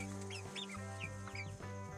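Chickens, including Asian black hens, clucking indoors in a small flock, with a steady low hum running underneath; several short clucks and chirps come close and clear, without any voice.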